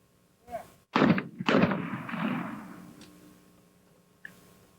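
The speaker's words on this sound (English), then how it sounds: "continuing his strong string of shooting here" Shotgun blasts ring out at a 1999 World Cup shooting competition: two sharp reports in quick succession with a long fading echo, then a faint click, heard fairly close in a quiet outdoor setting.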